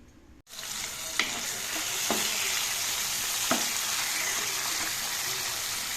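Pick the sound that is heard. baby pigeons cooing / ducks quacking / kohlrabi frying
kohlrabi frying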